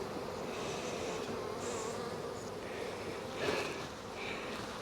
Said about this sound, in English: We got bees.